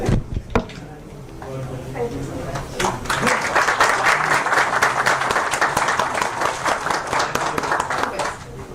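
Audience applause at a conference session on AI and employability, starting with a few scattered claps and building into dense sustained clapping from a crowd, with some brief voice and movement sounds at the start.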